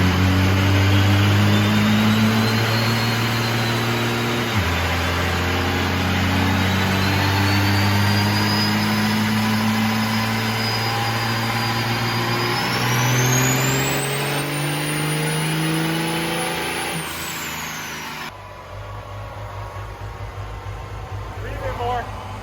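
Cummins diesel with dual CP3 injection pumps and twin turbochargers roaring under load on a dynamometer, a loud sustained pull with rising turbo whine, cutting off sharply near the end.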